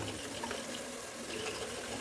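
Water runs into a pot of pasta during cooking, a steady faucet-like wash of flowing water that holds at an even, moderate level throughout.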